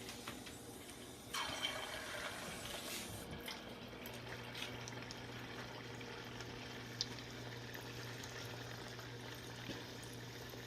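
Small paniyaram dough balls frying in hot oil in a pan, a steady soft sizzle and bubbling that runs throughout at moderate level, with a brief louder splash near the start as the batter goes in.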